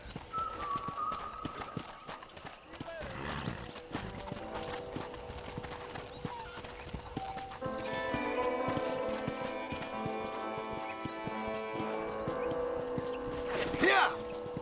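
Rhythmic clip-clop of horse hooves while riding in Red Dead Redemption on PS3, steady trotting under a game voice talking, with a brief whinny and ambient ranch sounds.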